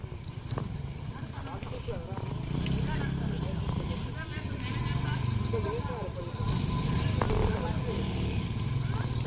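A Splendor motorcycle being ridden, its engine a steady low drone that swells and rises in loudness partway through, with voices talking over it.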